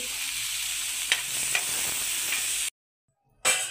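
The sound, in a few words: frying and stirring in pan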